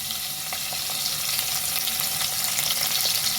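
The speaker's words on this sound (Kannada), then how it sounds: "ಇತ್ತ ಒಗ್ಗರಣೆ ತಪ್ಪು ಪಾಡೊಂದುಲ್ಲೇರು" Tempering spices sizzle in hot oil for chicken sukka, a steady frying hiss scattered with sharp pops and crackles, close and fairly loud.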